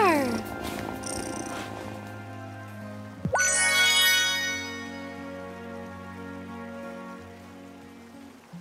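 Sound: cat purring in video game

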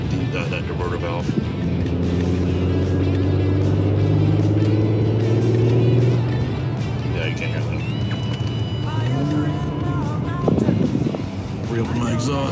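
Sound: car engine revving with diverter valve blow-off, exhaust valves closed

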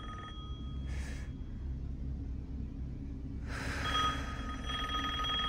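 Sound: telephone ringing, from video game Resident Evil Village

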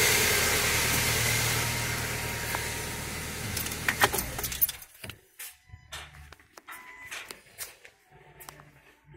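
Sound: car engine being switched off

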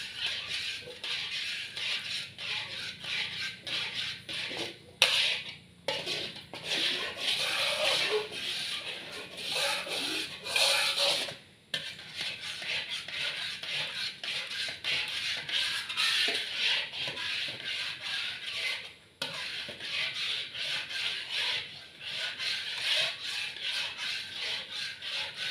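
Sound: stir-frying coconut milk until the oil separates

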